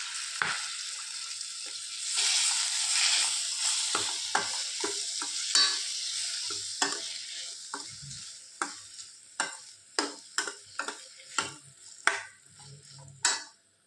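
Onion, tomato and green chilies frying in a pan for masala dosa filling, a steady sizzle under a spatula that scrapes and knocks against the pan in irregular strokes, growing into sharper, more frequent clacks toward the end.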